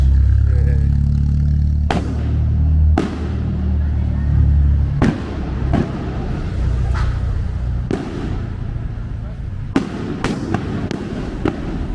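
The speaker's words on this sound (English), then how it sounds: "I think there's gonna be an event, and that's why there's firework." A series of sharp fireworks bangs in front of a church in an El Salvador city street, about eight irregularly spaced, booming over steady background rumble and faint voices.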